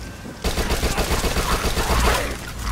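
SMG firing in the zombie shooter Dead Nation, a sudden sustained stream of rapid automatic shots with booming impacts, loud and unbroken for several seconds.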